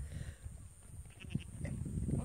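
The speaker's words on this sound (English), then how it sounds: "And we got Mr. Goat over there. Feeling left out" A goat on a farm ranch gives a short, faint bleat among low rumbling background noise, with no talking.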